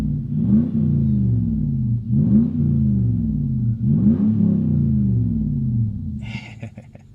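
An old luxury car with muffler and resonator deleted revs repeatedly, three deep rising-and-falling engine pulls each followed by a settling idle rumble, loud and close inside the cabin, ending with a faint clatter.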